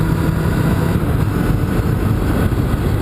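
Motorcycle cruising at about 100 km/h on the highway, a steady loud broadband roar of engine and wind rushing continuously throughout without letup.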